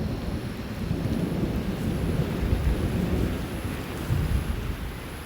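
Heavy tropical rain pours steadily at the peak of the rainy season, with deep rolling thunder rumbling beneath the dense downpour and no voices.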